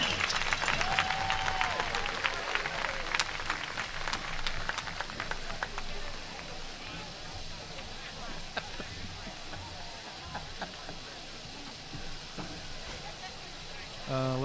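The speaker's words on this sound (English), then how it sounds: "One more big round of applause for our homecoming queen and her court." A crowd applauding the homecoming queen and her court at a high school football game, outdoor clapping and cheering loud at first and gradually thinning, with a voice over the PA.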